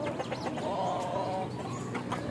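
Roosters clucking nearby in a continuous, busy stream of short calls over an outdoor background.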